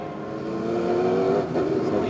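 Porsche GTU race cars in a 2000 Grand-Am race roar together on track, a loud, steady engine drone that swells slightly as they pass nearby.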